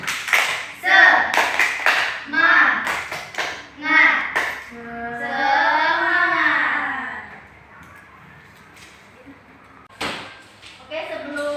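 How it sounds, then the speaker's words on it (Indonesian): Schoolchildren in a classroom clap a rhythmic group cheer, sharp claps in patterned bursts mixed with chanted voices, then a pause and another short round of claps. "ada baiknya kita tepuk semangat dulu"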